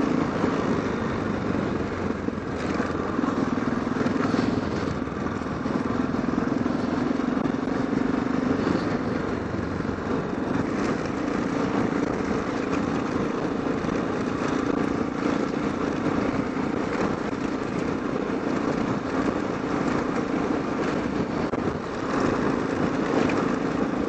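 Motorcycles riding over a rocky, sandy road in Mongolia: a steady, continuous engine drone with rumbling and wind noise throughout, fairly loud and unbroken, with no talking.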